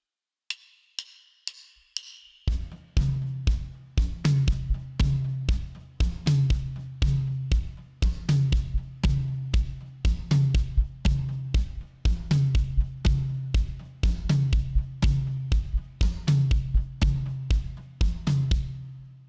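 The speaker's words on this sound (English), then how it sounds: "And then we come in with this drive-in tom pattern" Drums play a beat: a few sparse hits open, then a driving tom pattern locks in with steady eighth-note right hand and kick on every beat, loud and close.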